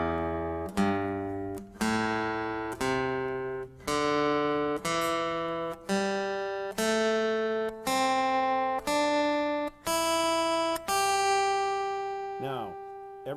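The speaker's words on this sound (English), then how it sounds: "We also have pentatonic scale, which is called a C form, and that scale sounds like this." An acoustic guitar picks a C pentatonic scale in the C form, about a dozen clear single notes stepping upward one at a time at an even pace, each ringing briefly before the next.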